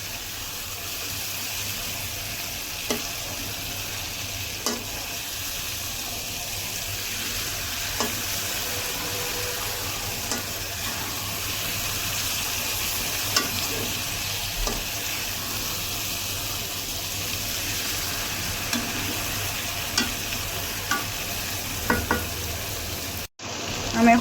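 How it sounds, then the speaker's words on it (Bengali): Sweet pumpkin fries in a pan with coriander leaves, giving a steady soft sizzle. Occasional light scrapes and taps of stirring come through close by, and a brief dropout comes near the end. "আমি এখন আবার ঢাকনাটা খুলে নেড়ে দিচ্ছি।"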